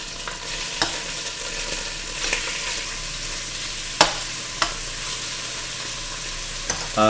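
Chicken sizzles steadily as it browns in a hot frying pan for coq au vin, a constant crackling hiss broken by occasional utensil scrapes and taps, close by with no talking.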